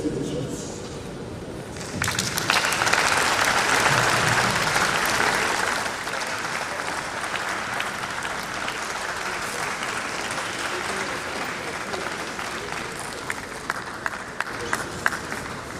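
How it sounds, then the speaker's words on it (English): Audience applause after a university inaugural lecture, a swell of loud clapping that settles into steady sustained applause with scattered louder claps, voices faintly mixed in. "Another round of applause to Professor Ogunleye."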